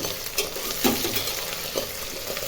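Onion, green chili and potato being stirred in hot ghee for khichdi, with a steady sizzle of frying broken by a few soft scrapes of the spoon. It is close and moderately loud, with no talk.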